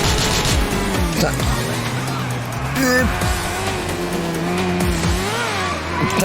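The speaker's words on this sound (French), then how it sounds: "Putain, les motos qui glissent." Motorcycles skidding and sliding in the video game GTA 4, with a loud engine drone and repeated tire squeals and scrapes close up, under occasional talk.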